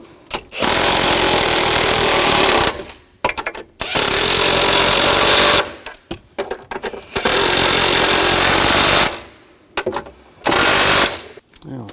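Loud bursts from a power tool tightening nuts on the rear shock of a 2000-2006 BMW X5, four long whirring runs with short pauses between them, close up.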